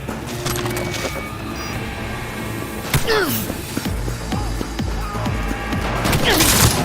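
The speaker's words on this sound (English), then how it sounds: "Under heavy fire!" Heavy automatic gunfire rattles nonstop in the Cyberpunk video game, dense and loud, with crashes and booming impacts mixed into the close firefight.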